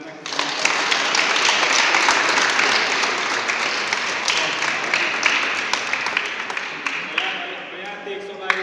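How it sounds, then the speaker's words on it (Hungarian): Audience applauding the referees in a sports hall at a cup tournament in Erdőkertes: dense, steady crackling clapping that fills the space for several seconds and tapers slightly toward the end. "egy tapsot megérdemelnek."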